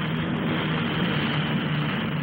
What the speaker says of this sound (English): The majesty of perhaps the key aircraft of the show, the Rotodyne